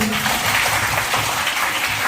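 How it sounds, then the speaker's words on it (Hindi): Children clapping for themselves during a good-touch bad-touch awareness session at a school, a loud, dense wash of many small hands clapping continuously and evenly. "ताली बजाओ अपने लिए।"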